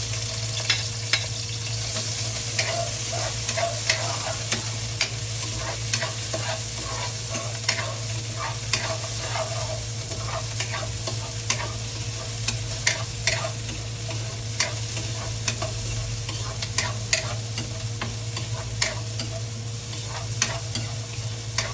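Onion being stirred and sautéed in a pan, a steady close sizzle with frequent sharp scraping taps of the utensil against the pan throughout, over a low constant hum.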